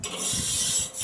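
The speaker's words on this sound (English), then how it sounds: "this is a serious Man Grate wire brush for getting in there and keeping that clean" A wire grill brush scrubs across grill grates in a short, close, hissy scraping rub lasting about a second.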